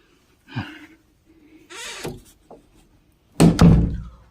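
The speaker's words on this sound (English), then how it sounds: "Porky just comes out of nowhere and closes the door for no fucking reason" A cartoon closet door swings and shuts with a few soft thunks and rustles, followed by a louder, solid slam near the end, with no talk.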